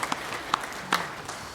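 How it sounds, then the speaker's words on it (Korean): Sparse, scattered claps from a church congregation during a Sunday worship service in Daegu, a few separate hand strikes standing out over a quiet room. "영광의 박수를 하나님께 드리겠습니다"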